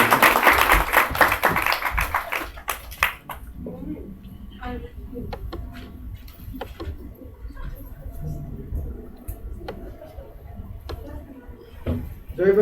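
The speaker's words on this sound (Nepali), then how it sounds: "आउनुहोस् हामी ताली बजाएर उहाँलाई स्वागत गरेको" A church congregation applauds to welcome a pastor at a worship service. Dense, loud clapping fills the first few seconds, then fades into quieter room noise with scattered taps and faint background voices.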